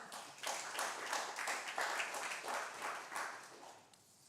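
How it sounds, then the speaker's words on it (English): A congregation at a Unitarian Universalist Sunday church service breaks into warm applause, many hands clapping in a soft, steady patter heard from a distance that tapers off after a few seconds. "Yeah, we can applaud that."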